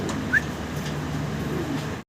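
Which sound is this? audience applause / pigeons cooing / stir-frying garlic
pigeons cooing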